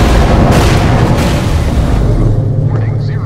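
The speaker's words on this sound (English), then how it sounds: "Detonate the charges now." Detonated charges explode in the Borderlands Pre-Sequel game, a loud, sustained rumbling boom that fills the whole moment and tails off into a lower roar.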